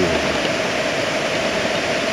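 A fast-flowing mountain stream near Zakopane rushes in a steady, loud, dense roar with no breaks, heard up close.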